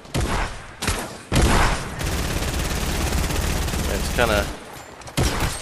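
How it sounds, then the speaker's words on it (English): A shotgun in the Fortnite video game fires rapid, loud blasts: two sharp shots, then a dense continuous barrage, with a brief voice speaking partway through and a final shot at the end. "I love this shotgun."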